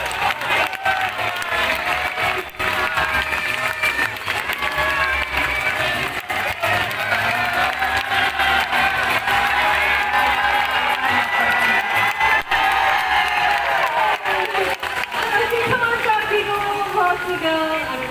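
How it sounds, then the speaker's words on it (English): Audience at a bird show race in Singapore cheering and applauding continuously, a loud, sustained mass of shouts, whoops and clapping that fills the whole stretch with no pause. "Peanut supporters, you have to cheer louder than that"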